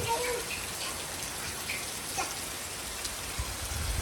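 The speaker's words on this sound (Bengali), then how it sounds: "বৃষ্টি এরকম মাঝে মাঝে এরকম থামতেছে এরপর আবার শুরু হইতেছে" Rain falls steadily outside during a storm, a close, even hiss of drops on surfaces with a few faint background sounds and no clear speech.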